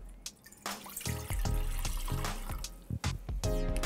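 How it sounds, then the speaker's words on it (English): Water, 500 ml of it, pours from a tap into a vessel for making cocktail syrup, a steady splashing stream that starts after a few drips and runs continuously and fairly close. "So, to start, we're going to add the 500 mils of water."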